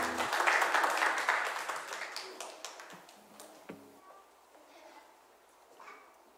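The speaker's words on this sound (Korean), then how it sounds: "나오실 때 우리 박수로 환영하도록 하겠습니다." A church congregation at a Sunday service claps to welcome the pastor, a burst of applause that is loudest at first and then thins into scattered, quieter claps.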